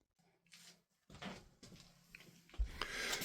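Newly fitted wooden drawers in a DIY camper van build slide open and shut, several soft wooden rumbles and knocks at close range, with a firmer thump near the end and a quiet start.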